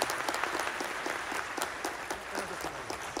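An audience applauds steadily, a dense wash of many hands clapping throughout, at Nagoya Grampus football club's 2023 new-team presentation event.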